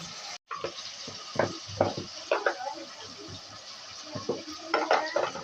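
Chopped potatoes tipped into a pan of frying ginger and garlic, then stirred: clattering scrapes of a spoon against the pan come in irregular bursts over a low sizzle.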